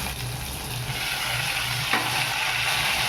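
Mudakathan greens sauté in hot oil with pepper, cumin, shallots and garlic, giving a steady, dense sizzle close by, with one brief stir or scrape partway through and no voices.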